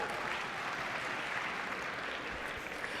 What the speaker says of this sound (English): this is something you guys will not be afraid to clap at